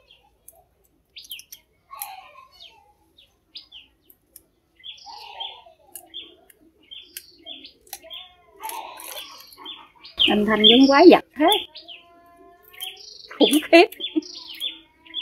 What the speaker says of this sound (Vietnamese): Chim hót nghe vui thế, chim sâu lớn họng quá.